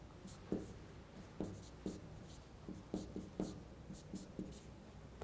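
Chalk or marker taps and strokes on a board during a signals and systems lecture, an irregular run of quiet, close clicks and short scratches against a steady room hum.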